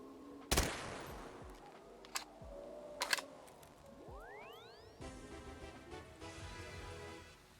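A gunshot hits a hidden collectible in Black Ops 3 Zombies on the Dead High map, followed by a rising, whistling sound cue and soft musical tones. Sharp bursts come early, then the ascending sweep plays alone over game ambience.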